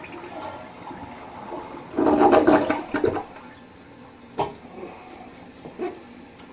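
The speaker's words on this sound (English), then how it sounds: "I'm gonna have to flush this and get this stuff out of here." A household toilet flushes after being scrubbed with toilet bowl cleaner, a loud rushing gush of water for about a second followed by quieter trickling and refilling sounds, close to the microphone.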